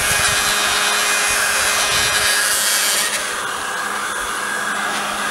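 A heat gun blows a steady, loud rushing hiss as it dries primer on a VW Beetle wheel, a constant close airflow that eases only slightly partway through.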